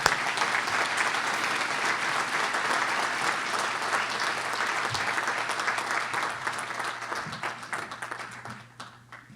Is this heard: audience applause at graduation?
yes